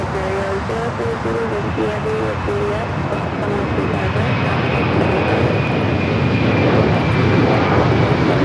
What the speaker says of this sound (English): That is Delta Airlines 939 taking off to JFK